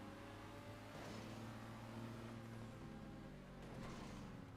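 Aston Martin safety car engine in the GTA video game, a steady droning hum with a mild rise in revs, continuous and fairly even throughout.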